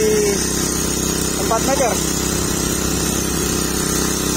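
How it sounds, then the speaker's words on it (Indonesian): A small Alcon Mini engine-driven machine pulls drill pipe from a bored well about 9 meters deep, droning steadily and loudly throughout while someone speaks briefly over it. "Kita tarik dengan mesin Alcon Mini."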